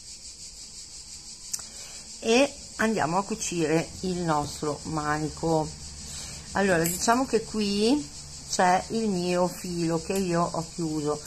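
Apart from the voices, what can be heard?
cicadas chirping outside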